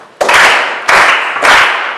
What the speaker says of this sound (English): Clap hands for him.